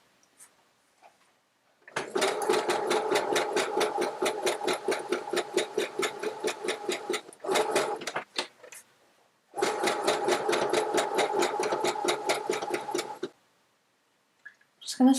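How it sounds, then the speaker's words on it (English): A sewing machine stitches fabric for baby name blocks in two long, steady runs of rapid rhythmic needle clatter, separated by a short pause, close and clear with no voices. "So I'm just going to carry on finishing stitching up to this corner."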